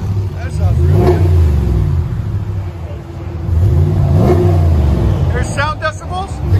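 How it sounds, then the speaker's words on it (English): A 2019 RAM 1500 with a 5.7L HEMI V8 and Flowmaster Super 44 dual exhaust revs up twice, the deep exhaust rumble rising and falling loudly up close, while voices talk over it. "Wow, Super 44 Flowmaster. That sounds really good."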